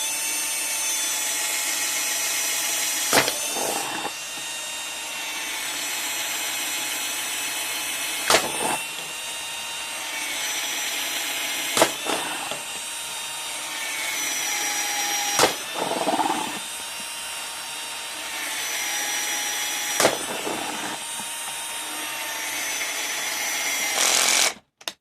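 A power drill bores holes in a container, its steady high whine running loud and close for long stretches, broken every few seconds by brief pauses and sharp catches as each hole is started.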